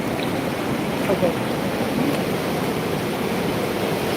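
Water rushes steadily through a burst pond embankment at Kolegaon, a continuous, even, broadband roar close by with no pauses.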